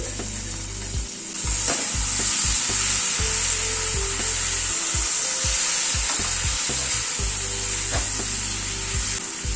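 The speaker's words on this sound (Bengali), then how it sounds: "মশলাটাকে আরেকটু কষিয়ে নেব।" Spice masala with melting tomatoes sautés in a pan, a strong steady sizzle that swells up after a quieter first second, with low tonal sounds running beneath it.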